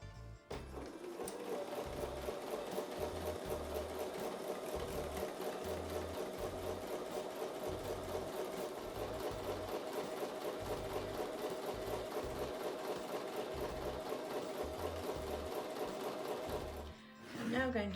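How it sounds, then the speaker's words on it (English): A sewing machine stitches quilt fabric at close range, its rapid rhythmic stitching clatter continuing for a long stretch before stopping near the end. "I'm going to take these over to the sewing machine and sew a 1/4 inch on both sides"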